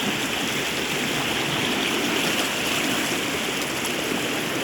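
Water flowing all around in a strong, steady rush, loud and continuous with no break, like a stream or runoff filling the surroundings.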